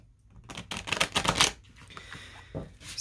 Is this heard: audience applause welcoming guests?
no